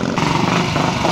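A pre-unit Triumph Twin motorcycle works through a trial section in Branshaw quarry, its engine buzzing loud and close in a continuous, slightly uneven drone.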